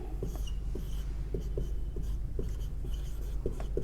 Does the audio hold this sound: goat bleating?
no